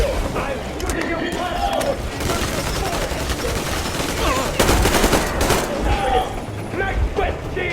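Gunfire in the video game Metro Exodus, rapid bursts and mechanical clatter layered over dense game noise and a voice talking, with a louder cluster of shots partway through.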